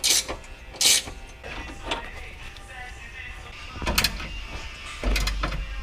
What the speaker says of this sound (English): we have to detach the sway bar from the subframe right here and over there too